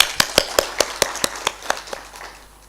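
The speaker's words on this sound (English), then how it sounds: "I think you all deserve a clap for that" A small workshop audience claps in a loose, evenly spaced rhythm of about a dozen sharp claps that gradually fade in strength, close and clear, with no talk over it.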